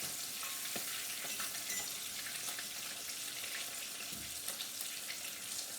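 Fish for Easter fries in a pan of hot oil, a close, steady crackling sizzle with scattered pops that runs throughout, with no talk.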